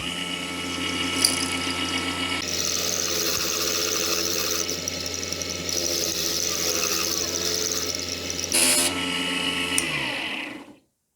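A Chinese mini universal lathe, a small combined benchtop machine, turns and cuts a workpiece with a steady whining motor hum and grinding chatter that shifts in tone a few times, then winds down to silence at the end.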